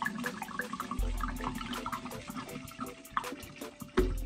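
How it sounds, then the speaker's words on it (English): Peach rum and peach vodka poured into a punch bowl, a steady liquid splash and gurgle running throughout with faint clinks of glass, moderately quiet and close, with no talking. "take this peach rum and this peach vodka and let's pour them all in here"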